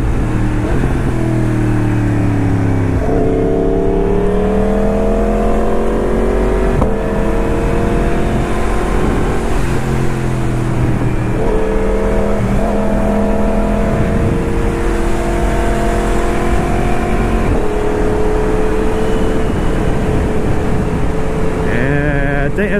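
A 2023 Yamaha MT-10 motorcycle engine heard while riding, loud and close, with rising and falling revs through gear changes over constant wind rush.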